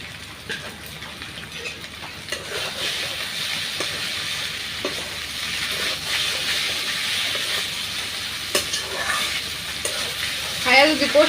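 Noodles being stirred and fried with masala in a pan, a steady sizzle and hiss throughout with scraping stirring strokes, close and fairly loud, with no talk.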